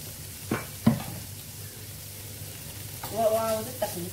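Tomatoes and meat fry in olive oil in a pan, and a spoon stirs them now and then: a faint, low sizzle broken by a few soft scrapes and clicks.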